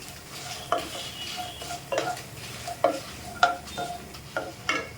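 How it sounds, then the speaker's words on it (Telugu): Spices, everything but the garlic, fry on low heat in a pan for Dondakaya velluli kaaram, with a steady soft sizzle and a spatula scraping and clinking against the metal in repeated strokes, close and fairly quiet. "వెల్లుల్లి కాకుండా మిగతావన్నీ ఇలా వేసి వేయించేసుకోవాలండి. సిమ్లో పెట్టుకుని కొంచెం కలర్ చేంజ్ అయ్యే వరకు అయితే వేయించుకోవాలి"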